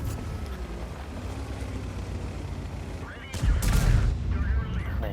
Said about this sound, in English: That shot going in the frontal armour of the VK and not penetrating.